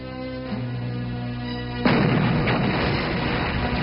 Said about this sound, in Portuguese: E com os frontes estabilizados foi possível iniciar a artilharia maciça na defesa e no ataque.